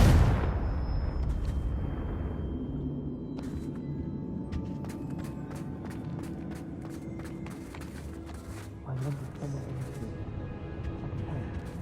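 Confringo fire spell cast in Hogwarts Legacy: a loud blast at the start rolling into a sustained rumbling roar, with scattered sharp crackles and debris clatter, plus a second swell near the end.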